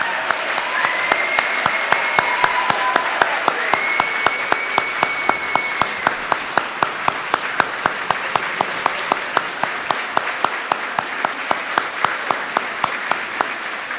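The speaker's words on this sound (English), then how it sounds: "They're applauding because I don't look like an idiot." An audience at a service awards ceremony applauds steadily, a dense wash of clapping with one pair of hands beating a regular rhythm close by, holding its level for the whole stretch.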